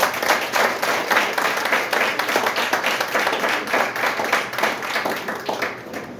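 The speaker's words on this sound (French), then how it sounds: "Et je vous demande de les applaudir" Audience applause at a gathering honouring contributors, a dense steady clapping that continues at moderate loudness throughout without talk over it.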